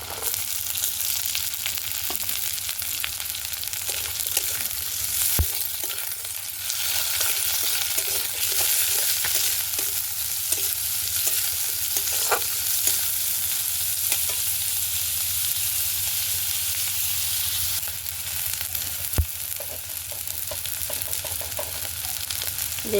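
Chopped spring onion stalks frying in fish oil in a pan, a continuous loud sizzle with occasional stirring clicks and scrapes, close up and without talk.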